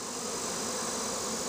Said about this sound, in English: there's some bees starting to drift down to the ground